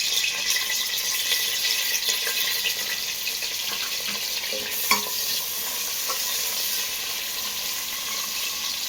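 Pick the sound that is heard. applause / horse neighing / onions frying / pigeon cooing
onions frying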